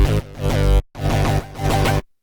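Synth preset called Whip Flush playing alongside heavy bass synths in a cyberpunk-style track, made with freeware in Cakewalk by Bandlab, producing dense, loud, pulsing chords in two phrases with a short cut between them.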